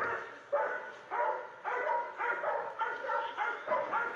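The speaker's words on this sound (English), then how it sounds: "It's just barking, right?" A dog barks repeatedly in a steady series of about eight loud, close barks with short gaps, and no talking over it.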